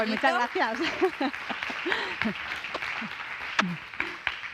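An audience applauds after a talk on self-esteem by a speaker, a steady soft clapping wash running throughout beneath a presenter's voice.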